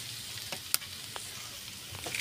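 A beaten egg goes into a pan of cooking noodles, setting off a steady soft sizzle and frying crackle with a few sharper pops and scraping stir sounds, close and fairly quiet.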